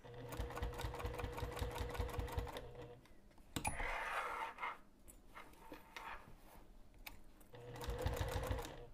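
A sewing machine runs in fast even bursts while top stitching a side tab onto a bag, loud at the start and again near the end, with quiet handling sounds in between.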